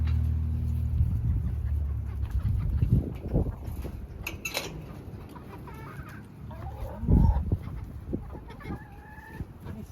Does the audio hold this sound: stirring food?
no